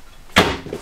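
A cupboard door in the kitchen island of a 2020 Jayco Pinnacle 32RLTS fifth-wheel RV closes with a single close, solid knock followed by a faint rattle.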